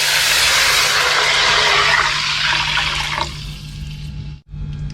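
Plain water pours steadily into a pot of spice-fried base for a red pork rice sauce, a loud continuous gushing splash that tapers off near the end.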